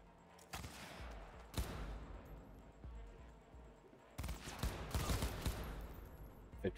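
Gunfire in the video game Cyberpunk 2077, with two sharp, loud shots separated by a pause and then a dense, rapid burst of firing, over a low game backdrop.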